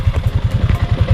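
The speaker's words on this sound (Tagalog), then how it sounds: "Ito yung tunog ng engine mga amigo after 2 years and 9 months." Stock Yamaha Sniper 155R motorcycle engine, about 2 years and 9 months old, idles up close with a steady, rapid low putter and light mechanical clatter, loud and even.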